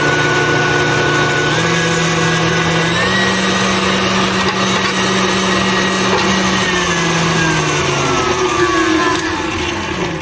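An electric mixer whips cream into homemade butter, a loud steady motor whir with a slowly shifting pitch running the whole time without pause.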